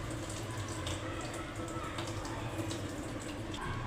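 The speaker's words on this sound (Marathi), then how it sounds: "पूर्ण पालक धुवून घ्यायची अशी स्वच्छ जाळीमध्ये, म्हणजे घाण पाणीही टाटा साचत नाही" Water runs and splashes steadily as spinach is washed in a clean mesh strainer, the dirty water draining straight through; a continuous close rushing wash with no talk.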